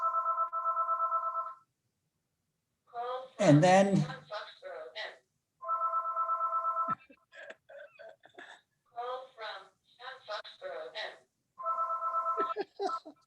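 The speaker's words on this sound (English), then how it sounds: "the phone, of course, rings as I start to speak" An electronic telephone rings in repeated bursts during a lecture, loud and close, with someone speaking between and over the rings.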